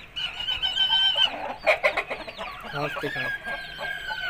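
Aseel hen giving several short clucks and squawky calls close by, with someone talking in between.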